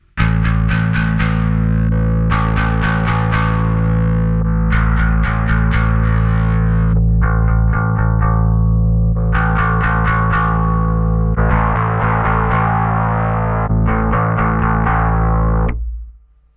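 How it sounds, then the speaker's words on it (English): Distorted, effects-laden synth or guitar tones processed through the Anagram Entropia distortion app, played in repeated phrases over a droning low bass, loud and continuous before cutting off at the end. "Once you're happy with the overall character of the distortion"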